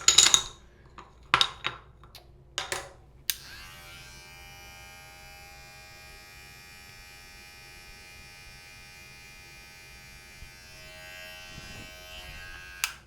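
An electric hair trimmer used for a self-haircut starts after a few sharp clicks and handling knocks, then buzzes steadily and close for about nine seconds before cutting off.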